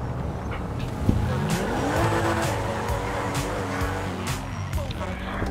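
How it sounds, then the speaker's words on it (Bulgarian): A Comet sports car in GTA 5 drives with a steady engine drone and shifting revs, with tire squeal and skidding along the way, under a voice speaking over the game. "пишете Комет и ви излиза ето тази спортна кола."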